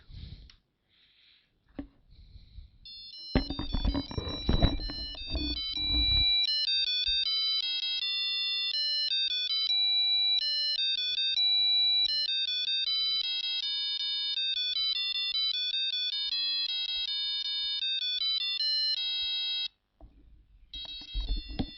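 A thin, beeping Arduino-driven electronic buzzer plays a quick tone melody for about fifteen seconds, note after note, after some brief clicks and rustling handling noise.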